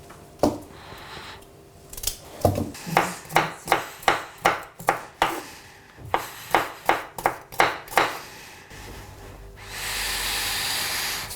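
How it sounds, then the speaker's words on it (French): Shallots being chopped on a board: a quick series of about fifteen crisp knife strokes in a steady rhythm, close and clear, followed by a soft hiss. "Des échalotes, je les ai coupées"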